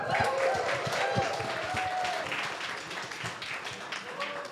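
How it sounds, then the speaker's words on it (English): An audience at a content-creator event gives a round of applause for a sponsor, moderate scattered clapping with voices talking over it, fading slightly toward the end. "Let's give another round of applause for Teachable."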